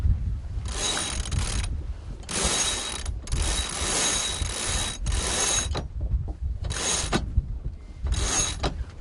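A sailboat winch ratchets loudly during line handling while the boat tacks, giving close, rapid clicking bursts separated by brief pauses.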